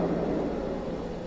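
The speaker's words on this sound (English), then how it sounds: "Liftoff on Apollo 11." Deep, steady rumbling roar of a Saturn V rocket at the Apollo 11 liftoff, broad and sustained, heavy in the low range and fading slightly over its short span, with no voices.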